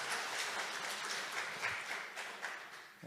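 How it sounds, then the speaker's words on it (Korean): Audience applause at a church gathering after a prayer, a steady dense wash of many hands clapping at moderate distance, fading slightly toward the end with no talk over it. "박수 한번 해주시면 감사하겠습니다"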